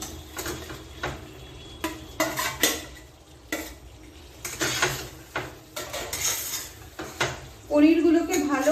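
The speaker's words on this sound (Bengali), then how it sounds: "এবার আমি পনিরগুলো এতে ঢেলে দিলাম" Paneer pieces get stirred into a cooked-down masala in a pan, with repeated spatula scrapes and clatters in uneven bursts over a low background, and a brief hissing splash near the end.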